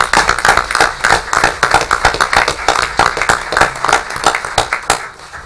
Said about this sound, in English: A round of applause for former Mayor Bill Larkin.